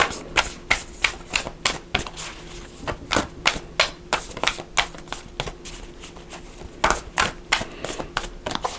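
Tarot cards shuffled close by in a quick, steady run of crisp riffling snaps and soft slaps that continues throughout with no talking.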